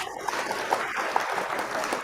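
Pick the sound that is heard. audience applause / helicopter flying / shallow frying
audience applause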